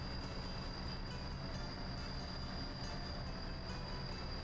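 Trains in the Soviet city-building game Workers & Resources: Soviet Republic, heard as a steady, loud, continuous rolling rumble with a faint high whine. No talk.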